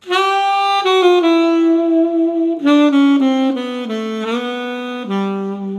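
Solo alto saxophone plays a smooth chromatic lick with no accompaniment, sustained bright tones sliding downward step by step in a short legato phrase, close and clear.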